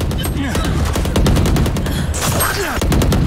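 Rapid bursts of gunfire in the tactical shooter Valorant, loud and dense, with repeated sharp shots and automatic fire running the whole moment alongside other game effects.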